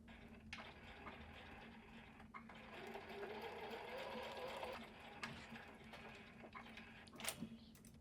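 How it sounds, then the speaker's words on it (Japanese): A sewing machine hums in a continuous run, stitching quilt batting along its edge for a small house-shaped fabric box, followed by a few soft clicks and a louder handling knock toward the end. "縫うのはキルト綿の端に合わせて縫います。"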